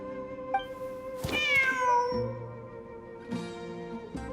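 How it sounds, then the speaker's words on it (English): A cat in a video game, the Genshin Impact desert ruins, lets out a clear drawn-out meow, followed by a couple of shorter cat calls over a soft steady musical background. "Wait, there it is! The cat!"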